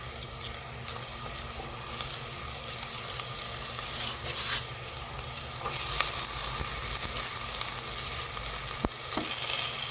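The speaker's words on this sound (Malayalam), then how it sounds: "നമുക്കിനി ഇതിലേക്ക് ജിഞ്ചർ ഗാർലിക് ചേർത്ത് കൊടുക്കാം." Ginger and garlic fry with softened onions in a pan for a cauliflower pulao. A loud, continuous sizzle runs close by throughout, with occasional clinks and scrapes from stirring.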